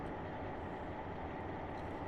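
A train in a simulator game of the Boston & Albany line in New England rumbles steadily with a continuous low rolling drone and faint rhythmic wheel beats, with no voices.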